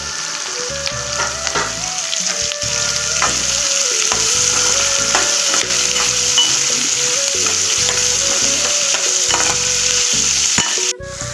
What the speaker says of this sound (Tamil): பாருங்கள், நம்ம இந்த குடமிளகாவும் சேர்த்து வதக்கலாங்க.